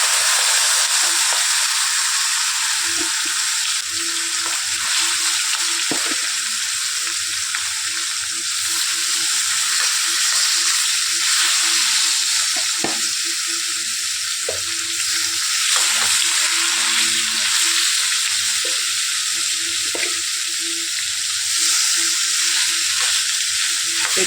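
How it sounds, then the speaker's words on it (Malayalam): Chicken pieces frying in hot oil for biryani, a steady loud sizzle and crackle running throughout with occasional stirring clinks, no voices. "ഇപ്പോൾ എണ്ണ ചൂടായതുകൊണ്ട് നമുക്ക് ചിക്കൻ പൊരിച്ചെടുക്കാൻ നോക്കാം"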